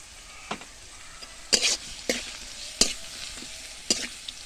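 Garlic paste frying in a pan sizzles softly while a spoon scrapes and stirs it in several sharp bursts, each stroke bringing a brief louder crackle over the low hiss.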